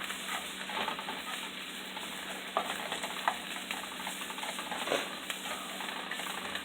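Onions fry steadily in a non-stick pan for breakfast burritos, giving a close, continuous sizzling hiss with a few soft scrapes and clicks from stirring.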